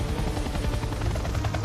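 A helicopter holds a steady, dense rotor chop and engine roar above a snowy mountain cliff, heard continuously and fairly close with no voices.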